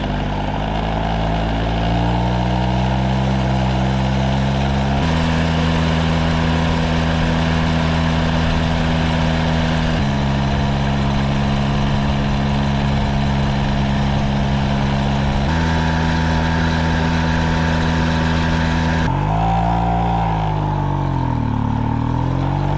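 Stock, restricted Motobecane 40V moped engine running steadily with a droning, buzzing note that stays fairly constant throughout, ending in a brief dip and rise in pitch; no talking.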